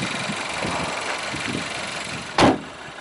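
A 3-door Audi A3 1.4 TFSI Sport automatic with 121 bhp idles quietly and smoothly nearby, and a single sharp thump breaks through briefly near the end.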